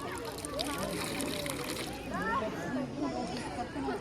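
River water flowing and splashing at Triveni Sangam, Talakaveri, a continuous wash under people talking nearby, including children's voices.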